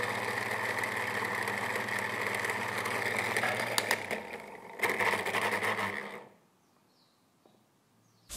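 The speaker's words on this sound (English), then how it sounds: "I switched on a fan to make the Mod Podge dry faster" A 25-year-old electric fan whirs steadily with a buzzing, slightly rattly motor tone, close by, then cuts off abruptly near the end, leaving near silence.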